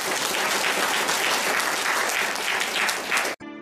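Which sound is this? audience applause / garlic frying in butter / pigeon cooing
audience applause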